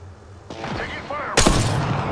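Gunfire rattles in Apex Legends, a muffled burst breaking into a loud, sharp volley in the last second, with a voice briefly underneath.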